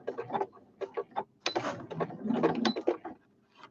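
A sewing machine runs in short bursts of straight stitching while sewing round the outside of a small scissors holder, its close mechanical whirring stopping and starting with no talk.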